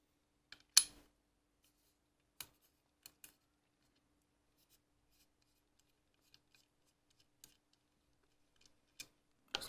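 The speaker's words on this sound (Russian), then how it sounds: "Раскручиваем осевой. Переворачиваем с этой стороны на ключе." Small metal clicks and ticks from a key working the pivot screw of a folding knife with D2 steel blade, a handful of sharp isolated taps spread across near silence.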